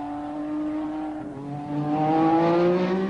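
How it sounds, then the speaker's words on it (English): A 1986 Formula One car with a Cosworth turbo engine at full race boost spins its wheels on a wet track at Castle Donington, its engine note climbing steadily and growing louder over three seconds. "Cosworth have produced an engine with full race boost, and the vicious power induces wheel spin on the wet surface."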